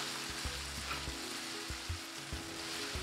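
Onions frying in a pan for a fish fry, a steady close sizzle with soft scrapes of stirring at irregular intervals, no voices.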